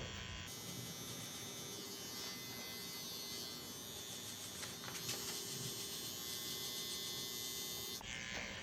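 An electric hair clipper buzzes continuously and close up during a mid fade haircut, starting and stopping sharply at the edges.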